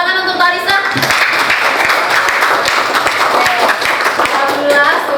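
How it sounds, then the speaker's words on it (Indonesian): A burst of clapping from a small group of students in a classroom, quick and scattered, continuing for several seconds with a voice briefly heard at the start. "Tepuk tangan untuk Larissa."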